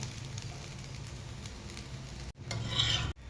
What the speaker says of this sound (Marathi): हे बघा इथं आपला डोसा पलटी मारून घेऊया